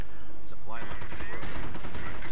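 Machine gun fire from a bunker in a WWII strategy video game, a dense, continuous burst of rapid gunshots rattling loudly across the whole moment alongside other battle noise.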